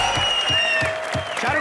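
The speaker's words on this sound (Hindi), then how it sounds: "खुल के तालियां एक बार शाहरुख भाई के लिए" A studio audience at a Comedy Nights comedy show applauds for Shah Rukh Khan, a steady burst of clapping with a faint musical tone ringing over it.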